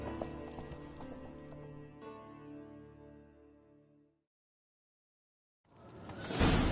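A horse gallops in The Witcher 3 video game, its hoofbeats under a sustained tonal backdrop that fades out into a couple of seconds of silence before a sudden noisy burst.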